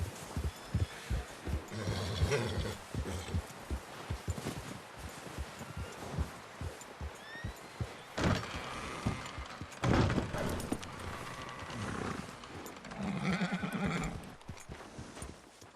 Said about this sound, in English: every horse is in here except mine